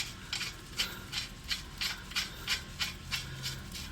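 A ratchet clicks steadily while torquing the nuts on a car, about ten evenly spaced rasping pulls close up with no talking over them.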